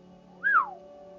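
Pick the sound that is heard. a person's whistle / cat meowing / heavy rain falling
a person's whistle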